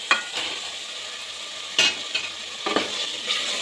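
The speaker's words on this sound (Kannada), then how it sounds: "ಹಾಕಿ ನೀಟಾಗಿ ತಿರುಗಿಸಿ." Fried eggs stirred into sizzling biryani masala in hot oil for egg biryani, a continuous frying hiss broken by a few scraping strokes of the spoon in the pan.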